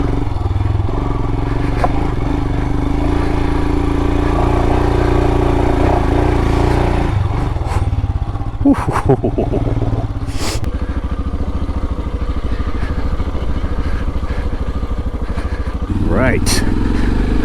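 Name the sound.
Himalayan motorcycle riding up a dirt road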